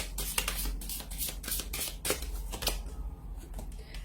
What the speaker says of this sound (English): I'm just going to give the cards, the Answers Oracle cards a shuffle here